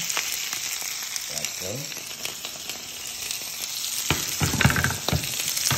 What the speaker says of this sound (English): So what I'm gonna do is dump it right on into the saute pan there